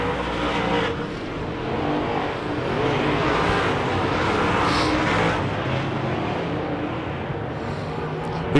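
Wissota modified race cars circling a dirt track near the last laps: loud, continuous engine roar from several cars, swelling as a pack passes and holding steady, heard from a distance.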